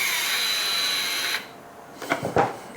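A DeWALT DWHT66719 power screwdriver whirs steadily at its lowest speed for about a second and a half, then cuts out, followed by a few short, quiet clicks and handling noises.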